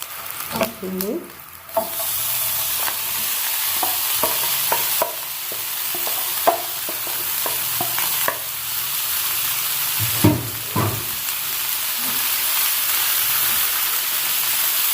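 Shawarma meat fries with onions in a hot pan, a loud steady sizzle broken by repeated scraping and clattering stirs, with no talking.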